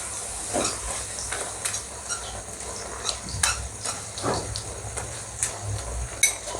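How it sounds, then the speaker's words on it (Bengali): Taro leaves with chopped garlic and green chilies being stirred in a pan, with repeated spatula scrapes and clinks over a soft sizzle, close and irregular. "এবার নেড়ে চেড়ে দেব।"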